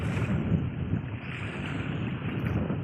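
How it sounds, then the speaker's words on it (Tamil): Strong wind at sea at night on a small fishing boat out for bat fish, a steady loud rush with buffeting microphone noise and no voices. "காற்று சரியான காற்று"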